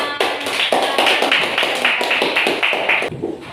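A class of pupils claps hands together in a quick patterned rhythm of sharp, evenly spaced bursts, loud and close, ending abruptly.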